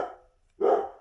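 A dog barks twice close by, short loud woofs separated by a brief pause, with no voices.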